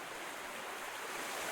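Ocean water and surf ambience in a video game, a steady washing rush of waves that swells slightly louder toward the end, with no voices.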